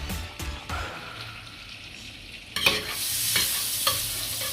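A quick stir of seasonings with about two tablespoons of oil for thyme pan-seared fish, soft scraping and mixing sounds up close, followed by a rising hiss like running water or sizzle over the last seconds.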